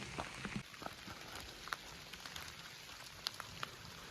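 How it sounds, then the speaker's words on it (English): Rain falls on a forest trail near a log camp as a steady soft hiss, with scattered sharper drops tapping close by and no voices. "Might have some heavier rains coming."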